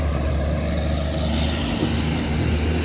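A sugar cane lorry drives along the Turnpike road in St. George, Barbados, its engine a steady low rumble with broadband road noise, heard continuously and fairly close throughout.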